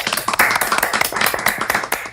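Applause from an audience at a post-screening debate of short films in São Paulo, a brief burst of dense, close clapping that stays steady and then begins to thin out.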